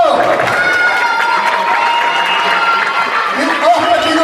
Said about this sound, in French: Applaudissez-le fort.